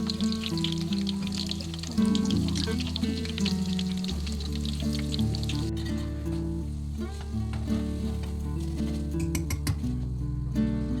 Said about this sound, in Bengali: আমি পকোড়াগুলো একটু ভেজে নিই